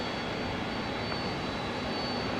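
A jet airliner roars on takeoff from runway 18 left at DFW Airport at night as a broad, steady engine rush, distant and constant, with no voices.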